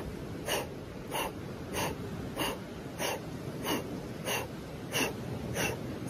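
Forceful rhythmic breathing, sharp strong exhales repeating about every half second to second in an even pulse, close and clear with no talking, during an exercise for transforming anger energy.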